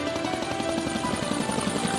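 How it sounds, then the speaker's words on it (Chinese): An oil company helicopter passes overhead with a continuous rapid rotor thump and engine whine, loud and steady. "一台台钻油公司直升机不断从头顶上飞跃"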